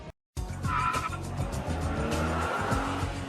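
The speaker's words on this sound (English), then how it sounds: "This is a Lotus Eco Elise." A Lotus Eco Elise, a high-performance sports car with hemp body panels, drives past at moderate distance. The engine hums steadily, with tires hissing on the road, following a brief cut of silence at the start.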